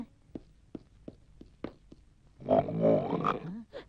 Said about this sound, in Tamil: இங்கதான் உருமல் சத்தம் கேக்குது புலி இங்கதான் பதுங்கி இருக்கணும்